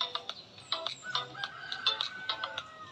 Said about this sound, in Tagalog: Yan mga ibon na nagsasalita.